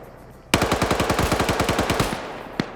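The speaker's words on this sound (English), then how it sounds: "Chat now taking some fire from Nemesis' PKP" A PKP machine gun fires in a video game: one rapid, evenly paced burst of close, loud shots lasting about a second and a half, then a single shot after a short gap.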